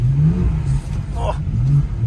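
Rental car revving on an ice racing track in Austria, engine rising and falling in pitch through bursts of throttle, loud and close, with a brief scrape midway.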